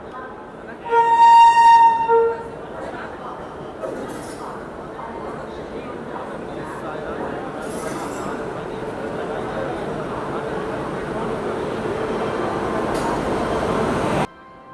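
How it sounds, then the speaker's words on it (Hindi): A Rajdhani Express train, bound for Mizoram, pulls in at a station platform. A loud horn sounds briefly near the start, then a steady rumble of wheels and station noise carries on under talk. "यहाँ पे अपनी राजधानी एक्सप्रेस को प्लेटफॉर्म पे लगाया जा रहा है।"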